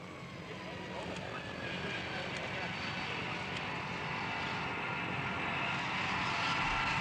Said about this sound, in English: The world's biggest plane, the giant C-5A transporter, flies into Saigon Airport with the latest shipment